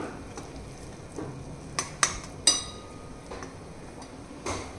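A masala mixture for a drumstick (shevga) curry is stir-fried in a pan until the oil separates. A spatula clinks and taps sharply against the pan a handful of times in an irregular rhythm over a faint, low background.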